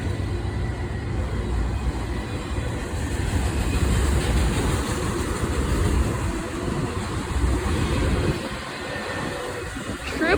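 A freight train of auto rack cars rolls past at moderate distance, a continuous rumbling clatter of wheels on rail that swells in the middle and eases toward the end, with no talking.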